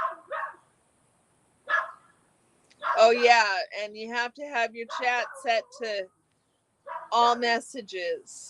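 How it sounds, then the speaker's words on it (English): A dog barks intermittently in the background of a live chat stream, several short yaps over someone talking closely throughout. "I'm sorry about the barking."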